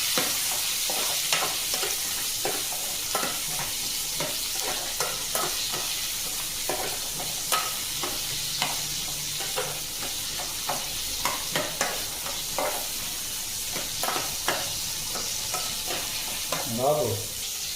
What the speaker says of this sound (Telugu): ఒక కేజీ చికెన్కి 2 ఉల్లిపాయలు, 2 టమాటాలు బాగా మగ్గించుకోవాలి.